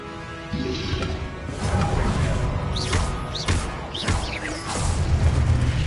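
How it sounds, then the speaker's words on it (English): Disarming spell cast in Hogwarts Legacy amid combat: whooshing magical bursts and thuds over a dense, busy game soundscape with rumbling low end, several quick swishing zaps layered together. "Expelliarmus!"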